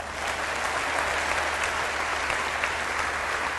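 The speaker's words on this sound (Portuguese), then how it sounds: "E um aplauso especial para Bolívia." A big congregation at an evangelical gospel gathering claps continuously, a thick, even wash of applause that holds at the same strong level from start to finish.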